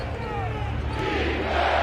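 Basketball arena crowd at an NBA playoff game between the Nuggets and Clippers, a steady loud roar of cheering fans filling the space, with a commentator talking over it.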